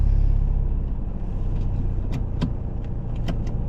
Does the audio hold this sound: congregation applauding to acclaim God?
no